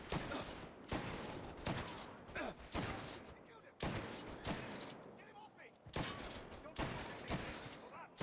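Gunfire in the game Mafia rings out in repeated sharp bursts, loud and close, each crack followed by a short decay, in an uneven rhythm with pauses between volleys.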